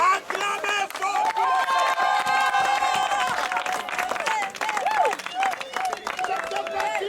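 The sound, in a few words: congregation cheering and applauding at a baptism service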